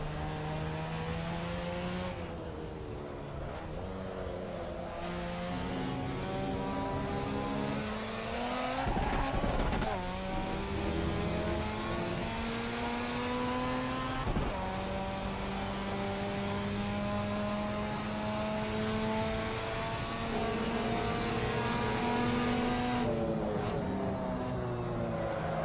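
A Mazda RX-7's rotary engine in the Assetto Corsa EVO racing game revs high and steady, its pitch climbing and dropping through gear changes across a continuous, loud drone.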